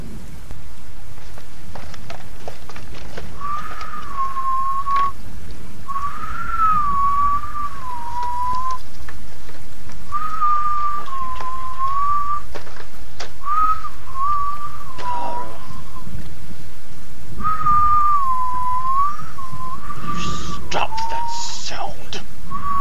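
A person whistles a wavering, meandering tune in several short phrases, with pauses between them, over a soft background hiss and occasional faint clicks.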